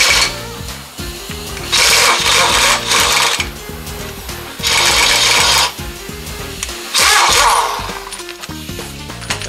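A power tool spins off fine-thread 1/2-inch-20 wheel nuts on a 1941 Pro Street Willys Coupe, three loud whirring bursts of about a second each separated by short pauses and clanks.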